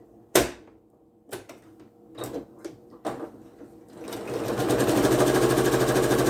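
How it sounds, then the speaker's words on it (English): A sewing machine stitching a new seam line beside an existing row of stitches on quilt fabric: a few separate clicks and clunks while setting up, then a steady, loud, rapid whir of stitching that continues to the end. "I'm going to set my left hand foot on these stitches and then stitch a new line next to it."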